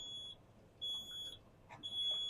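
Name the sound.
safety system alarm beeping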